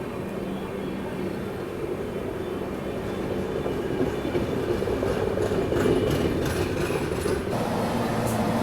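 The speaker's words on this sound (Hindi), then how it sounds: "WAP7 के साथ यहाँ पहुँच रही है नई दिल्ली सागोरिया इंटरसिटी एक्सप्रेस।" An intercity express train hauled by a WAP7 electric locomotive rolls into a station with a steady heavy rumble and clattering wheels, growing slightly louder, with faint squeals near the end.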